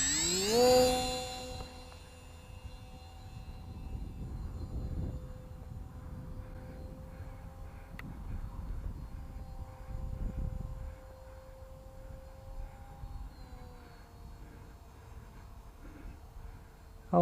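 Budget FX707S Albatross RC plane flying at 3/4 throttle on a 2S battery, a faint, steady electric motor whine holding a constant pitch that drops slightly near the end, over outdoor wind rumble.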